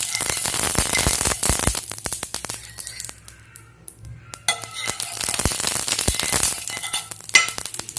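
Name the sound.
oil sizzling on hot griddle for bread aloo tikki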